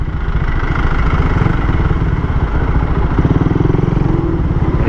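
Suzuki Raider 150 motorcycle engine running steadily, a close, loud mid-pitched idle with a rapid even pulse and light clatter, continuous for the whole stretch without speech.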